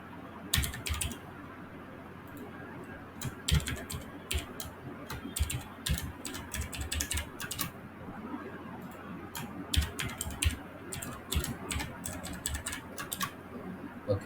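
Fast, irregular typing on a computer keyboard entering an email address and password, with bursts of crisp close keystrokes and short pauses over a quiet room background.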